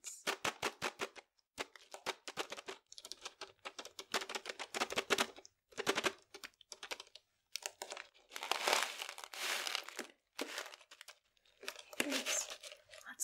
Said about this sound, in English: it's a big tin of cinnamon candy hearts.